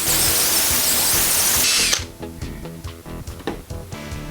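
A loud, steady whir from a drill polishing car paint on an Audi A4 fills the first two seconds, then cuts off, leaving quieter scattered knocks and clatter.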